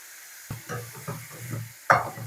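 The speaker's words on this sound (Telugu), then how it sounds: "పచ్చిమకాయల పేస్ట్ వేస్తున్నాను అందులో పసుపు కూడా వేస్తాను" Green chili paste with turmeric sizzles in a hot pan, with several soft stirring scrapes at a steady rhythm and a sharper hiss near the end, close and moderately quiet with no talking.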